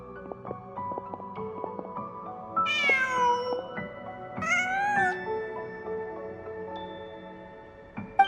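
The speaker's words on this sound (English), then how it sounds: "Just a cat." A cat meows twice in Genshin Impact, two drawn-out rising and falling calls set over soft, plinking in-game background music.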